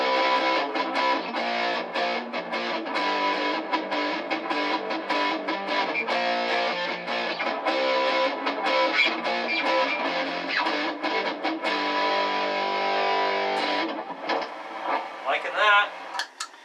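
Fender Standard Stratocaster played through its Alnico IV neck pickup alone, a continuous stream of picked electric guitar notes and chords heard up close for about fourteen seconds before trailing off.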